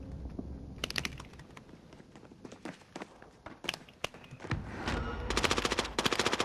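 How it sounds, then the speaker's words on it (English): Gunfire in an online shooter video game: scattered sharp shots early on, then dense, rapid automatic bursts building toward the end, mixed with clicky footsteps and keyboard-like tapping at a moderate level. "Oh, I'm getting shot in the back."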